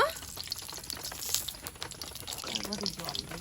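Oil crackling and sizzling in a cooking pan in a home kitchen, a busy, irregular spatter of pops close by, with a voice speaking over it.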